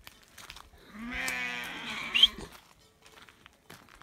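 A sheep gives one loud, wavering bleat in a flock of sheep and lambs, close by, with quieter rustling and faint farm noise before and after.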